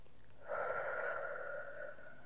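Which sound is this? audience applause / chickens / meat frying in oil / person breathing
person breathing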